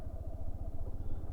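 A motorcycle rides a rough rural border road between Netrokona and Sunamganj in Bangladesh. The engine throbs close and steadily, with a fast, even low pulsing and some rattling over the uneven surface.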